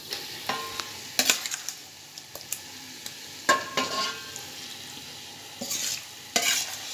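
Marinated chicken is stirred into a pan of sizzling masala for chicken dum biryani, with irregular scraping stir strokes and bursts of frying hiss over a quiet background.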